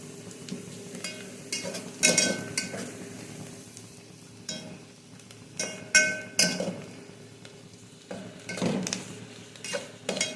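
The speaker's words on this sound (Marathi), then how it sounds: "असा मी चांगला कांदा सारखा हलवत राहायचं त्याला, म्हणजे छान परतलं जातं." Onion sautés in a pan over a medium flame under a low sizzle, with a spatula stirring it in repeated bursts of scraping and metallic clinks against the pan.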